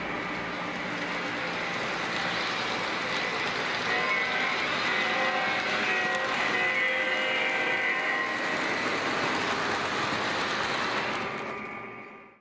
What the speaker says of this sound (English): Bringing any other legacy locomotive across that sensor track will have the same result.